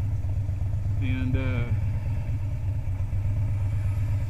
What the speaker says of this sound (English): setting at these lights, you got an air-cooled motor